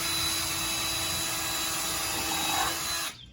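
A power drill boring small pilot holes into pallet wood for a bike rack brace, a steady high whine running close and loud for about three seconds before cutting off abruptly.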